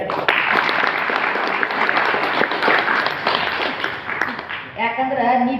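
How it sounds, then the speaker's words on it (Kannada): An audience at a spoken-word lecture on Vachana literature breaks into loud, sustained applause that fills the room right after the speaker's prompt. "ಒಂದ್ ಚಪ್ಪಾಳೆ ಹೊಡಿರಿ ಹೇಳ್ತಾರೆ"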